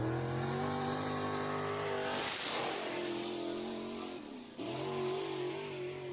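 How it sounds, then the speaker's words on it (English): Race car at a Deep South Speedway heat race: a loud, sustained engine roar with revving, swelling as a car passes close by midway, then settling back into a steady drone with no talking. "here comes Mr. Bo Slave driving a different car tonight."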